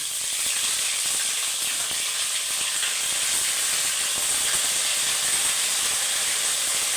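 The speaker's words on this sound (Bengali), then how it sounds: "এবারে আমি একটু আদা বাটা দিয়ে দেব" Ginger paste hitting hot tempered oil in a pan, giving a loud, steady sizzling hiss that holds evenly throughout with no voices over it.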